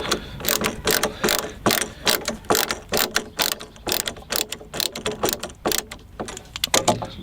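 Hand screwdriver driving screws into metal brackets on the corners of a wooden raised bed at an allotment, giving a close, steady run of ratcheting clicks and creaks in quick repeated bursts, with no talking.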